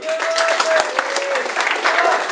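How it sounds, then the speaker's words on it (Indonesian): Audience applause at a vision-and-mission campaign presentation: steady, dense clapping from a crowd fills the space, with a voice speaking over it. "Tepuk tangan saudara"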